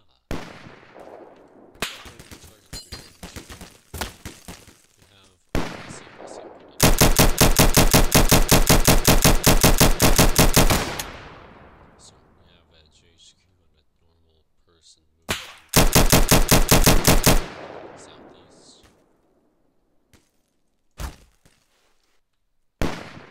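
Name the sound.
FAL rifle and machine gun fire in a video game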